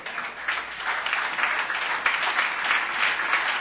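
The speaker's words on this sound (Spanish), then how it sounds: "Dele un fuerte aplauso al Señor." A church congregation applauds in worship during a sermon, a strong, sustained wave of clapping from many people, close and full throughout with slight swells in intensity.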